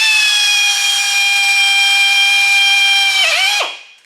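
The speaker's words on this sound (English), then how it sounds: "So you drill your holes out." Electric drill boring holes for a custom gauge installation in a 1934 Ford Coupe, a loud steady whine with a brief dip before spinning down and stopping.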